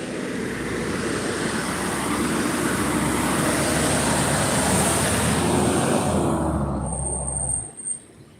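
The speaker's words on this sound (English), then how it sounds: "I'm outside. It happens. There are trucks going by." Heavy traffic rumbles past outdoors, a broad steady roar from passing trucks that fades away near the end.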